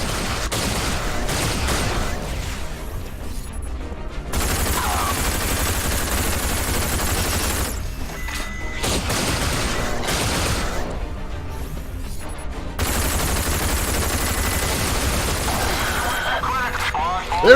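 Armor-piercing Fat Boy pistol rounds fire in the shooter RAGE: sharp, loud shots come in close bursts over a dense, continuous game soundscape, with brief quieter gaps between volleys.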